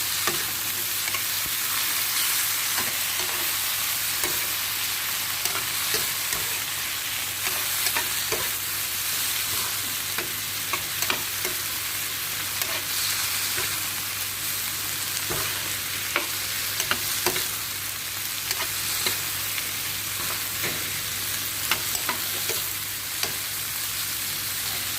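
Onion, tomato and green chili fry in a pan with a continuous loud sizzle, while scattered scraping strokes from the stirring spoon run through the whole stretch.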